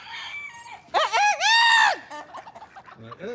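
A person imitates a rooster crow, a rising and falling strained call, loud and close, followed by quieter background chatter.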